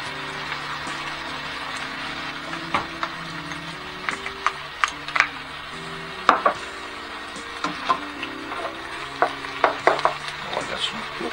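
Onions hit browning meat in a pan for spaghetti sauce, bringing a low steady sizzle with sharp wooden clacks and scrapes from stirring that grow more frequent, close up.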